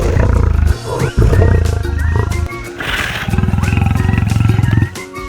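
Loud, close lion roar with deep growling and a rumbling, pulsing finish, matching the roar a voice was asked to imitate for an animal-learning game.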